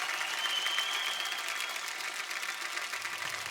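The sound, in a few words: audience applause for Surya on a TV show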